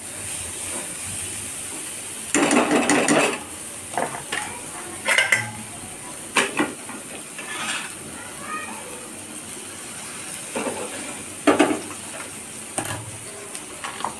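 Garlic and chillies roast in a small kadhai, with a metal spoon clattering and scraping against the pan in short bursts over a soft background hiss, and a voice talking between the scrapes.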